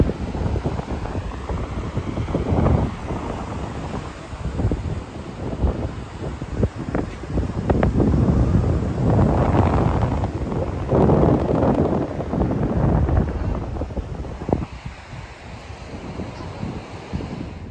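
Strong wind buffets the microphone in heavy, gusting roars at a rocky beach below a failed cliff, with waves and surf churning underneath throughout.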